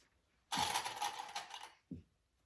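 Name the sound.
sewing machine basting backpack front and back together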